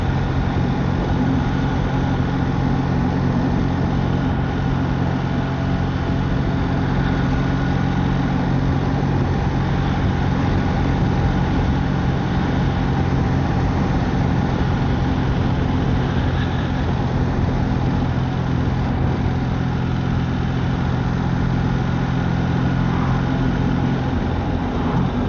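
Steady engine drone from a BMW R1300RT motorcycle with automatic shift assistant, a continuous low rumble with road and wind noise as it slows and shifts down through the gears, no talking.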